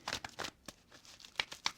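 Tarot cards being shuffled by hand, giving a series of short papery riffling and crinkling bursts with brief pauses between them, close and fairly quiet.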